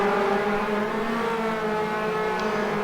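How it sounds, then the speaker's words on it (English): National Hot Rod race cars storming down the home straight at Ipswich oval, a dense, continuous roar of several engines close by, steady and loud with no breaks. "the field comes storming through Quintus on the home straight"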